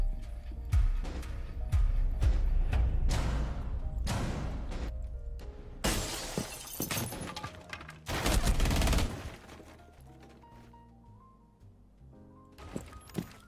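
Gunfire from the video game Rainbow Six Siege, with bursts of shots, impacts and crashes, loud and dense at times, thinning to scattered sounds and game effects.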